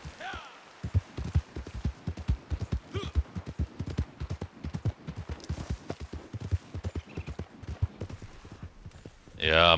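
Horse hooves clip-clop in a steady, even gait in Red Dead Redemption 2 Online, close and continuous throughout, ending with a sudden louder burst of sound.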